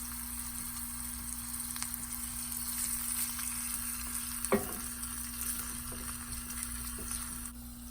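Spices for a tempering sizzle and crackle in hot oil for sprouted fenugreek sambar, a continuous close frying hiss with a steady hum and one brief clatter, no talk.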